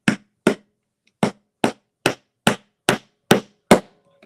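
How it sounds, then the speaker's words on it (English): Hammer driving a nail into a rustic wooden frame: nine sharp, evenly spaced strikes about half a second apart, loud and close, with one longer gap after the second blow. "So I'm just going to hammer in."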